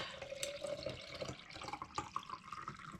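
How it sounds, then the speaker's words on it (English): Iced tea pours from a container into a jar packed with ice, a soft steady trickle and splash with light clinks, fairly quiet and continuous through a home kitchen setting. "So I've got myself a jar of ice. And I'm going to pour myself a little bit of tea."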